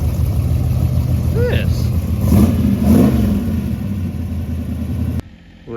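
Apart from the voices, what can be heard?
car engine revving and accelerating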